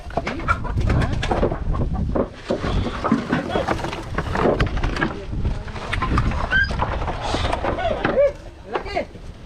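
Chickens cluck and squawk amid a busy, noisy scene where a large cobra is attacking chickens and ducks, with people talking over the birds throughout.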